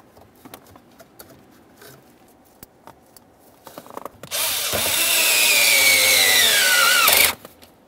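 A power driver snugs a 5.5mm bolt on a 2001-2005 Ford Explorer Sport Trac steering column, one loud steady whir of about three seconds after light handling clatter.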